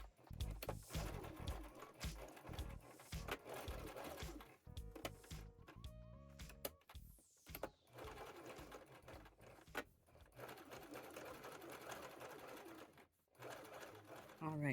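A sewing machine stitches a bra mockup in uneven bursts of mechanical whirring, pausing and restarting, close and fairly loud with a voice heard intermittently between runs.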